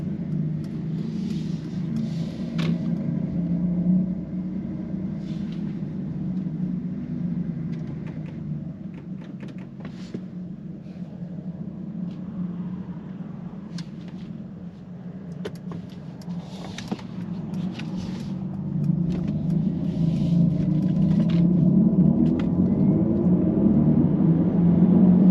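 Synthetic AMG sound experience in a 2023 Mercedes-AMG EQE electric sedan with 617 horsepower, a steady low humming drone heard from the cabin that swells slightly louder toward the end, with faint clicks over it.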